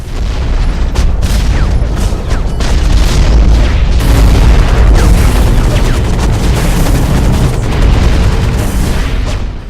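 Heavy, continuous booming from grenade launcher explosions and mech combat in the video game Hawken, loud and dense, with rolling blasts layered over each other throughout.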